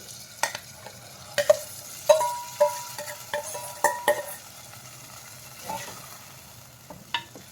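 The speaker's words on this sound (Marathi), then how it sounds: "छान परतून घ्यायचं, मिक्स करून घ्यायचं." Boiled popti beans are stirred and sautéed in masala in a pan, a spatula scraping in a series of distinct strokes over a soft steady sizzle, close and fairly loud.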